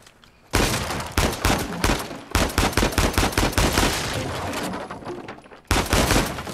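Dense bursts of gunfire from the video game Uncharted 4 crackle in rapid, loud volleys, with short pauses between rattling automatic bursts and no talk.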